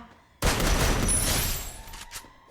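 A burst of rapid gunfire from the Free Fire video game opens abruptly and roars loud and dense for about a second before tailing off, with no talk over it.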